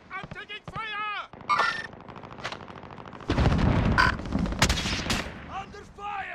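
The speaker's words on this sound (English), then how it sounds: "Enemy contact! I'm taking fire!" Gunfire crackles in the shooter game Call of Duty: Modern Warfare, loud bursts and heavy booms mixed with shouted voices and other battlefield noise.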